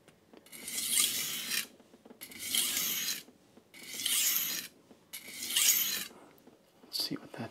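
Blade being sharpened on a King G-45 220 grit whetstone, four close rhythmic rasping strokes of about a second each with short pauses, then a shorter stroke at the end, moderately quiet.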